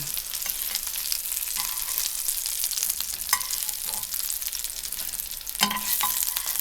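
Buckwheat patties sizzle and crackle steadily in a hot pan, with occasional scraping stirs, close by and with no talking.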